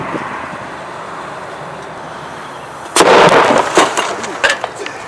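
A 3D-printed can cannon fires after a quiet stretch, a sudden loud outdoor bang followed by a few shorter cracks and clatter as debris scatters.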